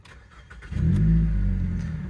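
A Mazda 3 with a power-loss fault starts up: a few soft starter clicks, then the engine catches and rises into a loud, close idle that settles into a steady low rumble.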